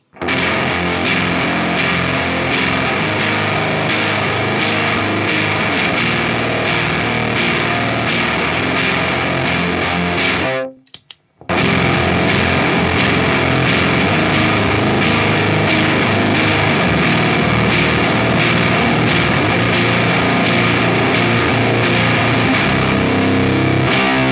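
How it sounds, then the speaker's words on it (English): Electric guitar pushed through heavy fuzz distortion, a thick, saturated wall of sound that cuts out briefly midway, then returns just as dense and loud. "it runs straight past distortion and straight into extreme heavy fuzz"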